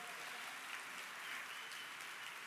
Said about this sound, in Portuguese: Podemos aplaudir o Rei dos Reis